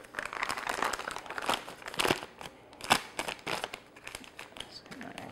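A plastic Ziploc bag filled with chocolate for brownies crinkles and rustles close by in irregular handling bursts, with a few sharper crackles.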